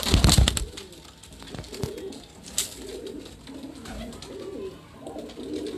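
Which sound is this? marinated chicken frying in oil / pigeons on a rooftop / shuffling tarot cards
pigeons on a rooftop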